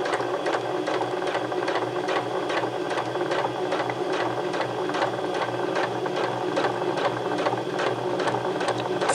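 A foot-pedal sewing machine stitches forward in a steady, fast, even whirr with a rhythmic mechanical clatter, close and continuous for about nine seconds.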